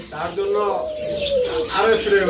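Pigeons coo at a pigeon sale, drawn-out, wavering calls rising and falling close by, with a person talking over them.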